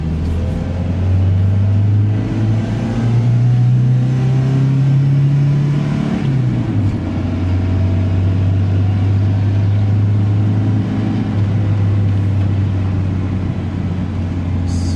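A 1983 Toyota Pickup 4WD drives along under a steady, loud low engine drone whose pitch rises with gently building revs, dips sharply around a gear change, then settles back into a continuous cruising rumble.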